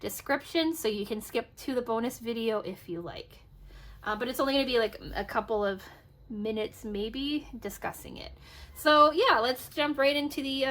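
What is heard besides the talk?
None of the usual background noises is heard.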